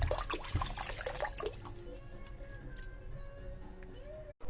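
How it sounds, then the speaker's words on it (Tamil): About two glasses of water are poured into a pot of kola urundai kuzhambu, a brief splashing gush that fades into softer trickling and dripping. "ஒரு 2 கிளாஸ் தண்ணி ஊற்றிக்கோங்க."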